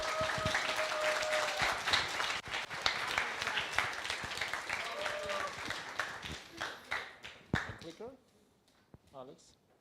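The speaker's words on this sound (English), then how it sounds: "Please give applause to our speaker." An audience applauds a speaker being introduced at a leadership talk, with dense, steady clapping that thins out and fades toward the end as voices speak over it.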